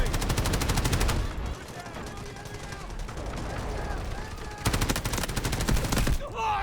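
AKM rifle fire in the shooter game Delta Force: loud, rapid automatic bursts, with a long stretch at the start and another near the end, separated by a quieter spell of rumbling battle noise.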